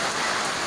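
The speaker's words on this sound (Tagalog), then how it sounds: "Lakas itong ulan ka" Heavy rain pours down in a dense, continuous hiss, loud and close with no break.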